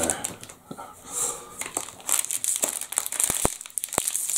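A packet of McVitie's mini biscuits, a strawberry variety in silver foil rolls, is torn and crinkled open close by, with irregular rustling and several sharp crackles and snaps toward the end.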